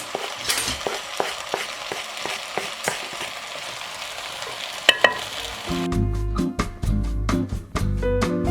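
Fresh herbs cooking in a pot for butternut squash soup, a gentle sizzle with light stirring taps and clinks, then rhythmic music comes in over the last few seconds.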